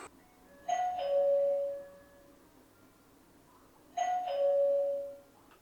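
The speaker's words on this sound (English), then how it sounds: "you could hear the chime ringing inside" An EZVIZ DB2 battery-powered video doorbell chime rings indoors twice, each a clear two-tone ding-dong that rings out and fades, with quiet pauses between.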